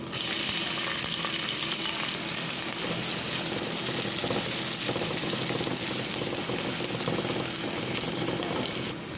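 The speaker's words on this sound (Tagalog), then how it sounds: "Ayan, nagisa na po natin bawang at sibuyas." Garlic and onion sautéing in hot oil in a pan, a loud continuous sizzle with stirring scrapes running throughout, close up and without talk.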